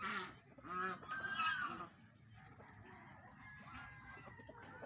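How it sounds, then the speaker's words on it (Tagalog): A free-roaming farmyard rooster gives loud, close harmonic calls over the first two seconds, followed by fainter clucking and background fowl noise. "Tandang."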